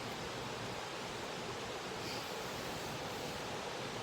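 Class 3 to 5 river rapids rush steadily over rocks and boulders in a dense, continuous roar of churning water with no pauses.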